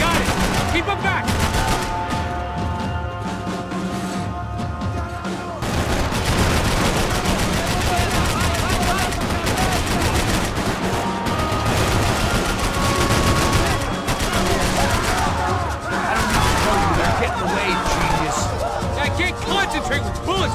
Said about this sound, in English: Concentrate with bullets whizzing past my head